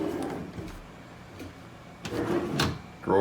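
A drawer slides open and shut with soft scraping and a light thump, quiet and close, with faint room noise around it.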